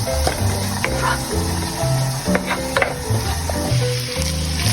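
Minced chicken sautéing in a hot pan, sizzling continuously while being stirred, with scraping and clattering utensil knocks over the steady frying hiss.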